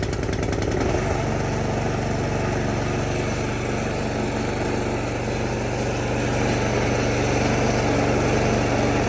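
A Craftsman snow blower's small engine runs steadily after starting, a loud, constant close-range drone with an even pitch and no talking over it.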